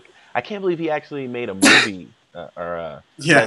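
A single sharp sneeze bursts out mid-conversation, loud and close, between stretches of casual talk from two people.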